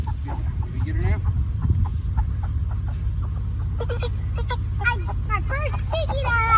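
A chicken clucks and squawks in agitated bursts as it is chased and grabbed by hand on a farm before processing, with people talking close by throughout.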